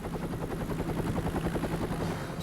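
A rescue helicopter hovers close and loud, its rotor chopping in a fast, steady pulse over a constant engine roar, with no voices.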